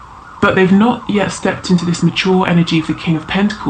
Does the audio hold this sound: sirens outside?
yes